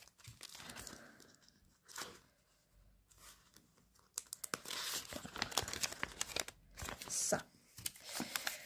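Paper banknotes rustle and crinkle as they are slipped into a paper envelope, with bursts of crinkling and handling noise near and fairly loud, coming in separate bouts amid brief pauses.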